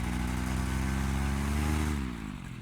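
A Moster 185 Classic paramotor engine runs steadily at quarter throttle with a loud, close, harmonic drone, then its pitch drops slightly as the engine eases off near the end.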